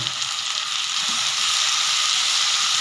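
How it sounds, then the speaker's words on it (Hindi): Chopped tomatoes hit a pan of potatoes already fried with onion, ginger and garlic, giving a steady, close hiss of sizzling for an Indian potato and eggplant curry. "अब हम इसमें ये बारीक चॉप हुए जो टमाटर थे हमने काट के रखे थे, ये ऐड करेंगे।"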